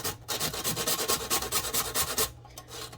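Whole nutmeg grated by hand for butternut squash ravioli filling, a close rhythmic series of about a dozen rasping strokes, each a short scraping burst, with a brief pause partway through.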